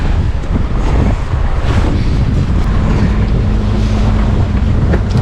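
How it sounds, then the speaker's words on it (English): Waves and strong wind buffet a boat on open water, making a loud, continuous roar of wind noise on the microphone and splashing surf that runs throughout, with no voices. "It's just got too much waves and stuff coming in here."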